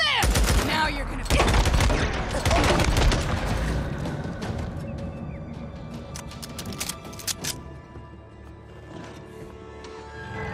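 Gunfire in the video game Days Gone, a dense burst of rapid shots and booms in the opening seconds, then scattered sharper cracks over lingering game ambience, with speech mixed in.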